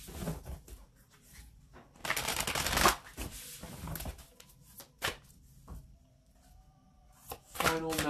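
A deck of oracle cards being shuffled: bursts of riffling and flicking card noise, loud in places, with quieter shuffles and taps between and a voice speaking briefly.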